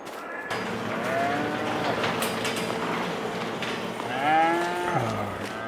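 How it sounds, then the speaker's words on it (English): Cattle in Farming Simulator 22 moo repeatedly at a Missouri farm cow barn housing beef and dairy cows, with overlapping lowing calls building to a louder, closer moo near the end over a steady background hum. "Got our beef cattle and our dairy cows"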